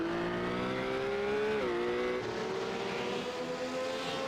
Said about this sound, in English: Dean Chapman and James Bernard are both battling here as the three-car battle almost